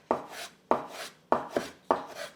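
A sharp knife slices through folded egg pasta dough into noodles on a board, four distinct firm chops at an even pace, each with a short scraping tail, close and clear with no talk.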